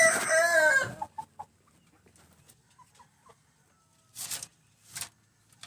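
A rooster crows loudly and close by at the start, a strained rising call, followed by scattered soft clucks and two short bursts of noise later on, with no talking.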